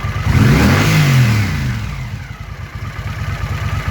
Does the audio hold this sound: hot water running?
no